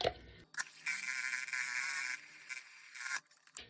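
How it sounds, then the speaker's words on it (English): A battery-powered mini whisk mixes glitter soap base, giving a high buzzing whir in short bursts that start and stop, with a brief pause at the start and another near the end. "this one, I am gonna do the mini whisk just for a second"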